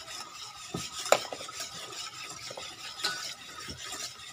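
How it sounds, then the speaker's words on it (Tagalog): Margarine being stirred into a puto batter, a soft continuous scraping and rubbing of a utensil against a bowl with occasional light clinks, close and moderately quiet with no talking. "Mix lang po natin. Ha add margarine."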